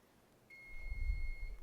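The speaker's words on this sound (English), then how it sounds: "wondering if you want to test your buzzers." A quiz competition buzzer at a Knowledge Bowl event is tested, giving one steady electronic tone that holds for about a second over low room rumble.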